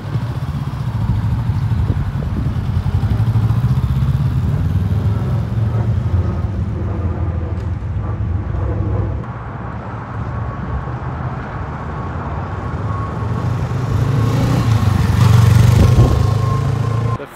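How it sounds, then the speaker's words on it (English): Honda Rebel 500 ABS motorcycle on its first ride, a steady close engine drone with a strong low rumble running throughout, rising somewhat near the end, with no talking. "Let me just hop on it and go for the first ride real quick."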